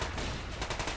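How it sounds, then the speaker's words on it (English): Machine gun fire in a video game, a brief dense volley of rapid shots lasting about a second. "Need to kill this machine gunner right here, John."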